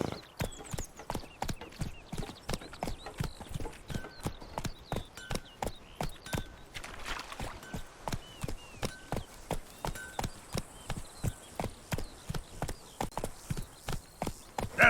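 Steady clip-clop of the horse Roach's hooves in The Witcher 3, an even trotting rhythm of sharp, close hoofbeats repeating throughout, with faint background ambience and no clear talk.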